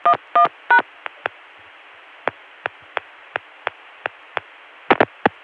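Touch-tone dialing on a 1981 private telephone network line: three longer DTMF tones, then a run of short, sharp, evenly spaced clicks and a final cluster of tones, all clear over a faint line hiss.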